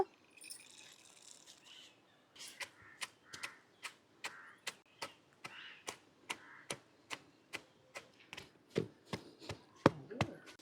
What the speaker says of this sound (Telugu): ఇప్పుడు ఏపుకున్న పల్లీలు కూడా దీంట్లో వేసుకొని పొడి చేసేసుకుందాం